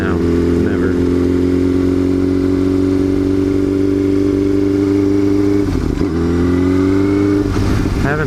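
A Yamaha R6 sport bike engine idles loud and close in a steady, continuous drone, with a slight dip and recovery in revs partway through.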